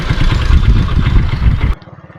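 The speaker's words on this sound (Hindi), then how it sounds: "लेकिन चलें अब बाइक मैं खुद चलाता हूँ।" A motorcycle engine putters loudly and close by with a choppy, uneven rumble, then cuts abruptly to a quieter, steady low idle thrum at the end.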